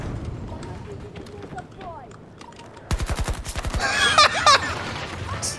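Machine gun firing in Battlefield 2042, a rapid burst of about ten sharp, loud shots in quick rhythm, then more gunfire and game noise, with players talking throughout.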